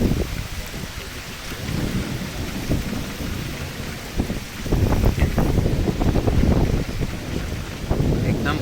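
Heavy rain and rumbling thunder in the Meghalaya jungle, a dense constant downpour with deep thunder swelling louder midway and wind buffeting the microphone.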